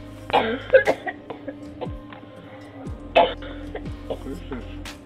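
A woman coughs in short bursts, picked up by a Ring doorbell camera outside a house in Kettering, with a low hum beneath and faint voices between the coughs.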